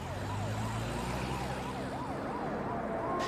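Wailing emergency vehicle sirens rise and fall in a steady repeating sweep, moderately distant, layered over a low rumble of traffic, with no talking.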